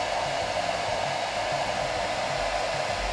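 A Philips BHD006 hair dryer drawing about 1270 watts runs steadily at close range, a constant loud whooshing airflow over a motor whine, with no other sounds.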